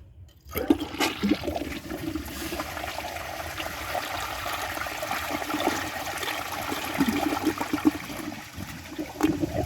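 A 1994 Standard low-consumption toilet flushes during a dirt test, a close, loud rush of water swelling in right after a short quiet start and continuing steadily to the end.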